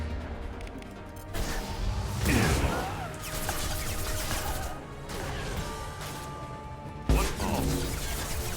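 Missiles strike in a Mass Effect 2 firefight with heavy booming crashes, one of them sudden and loud near the end, over dense rumbling combat noise and swooshes. A voice is partly heard in the mix.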